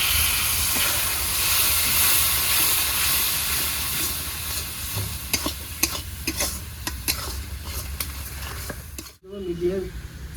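Bengali gravy for potato and pointed gourd fish curry sizzles steadily in a pan, with soft scraping stir strokes and hissing steam throughout, then a brief pause near the end.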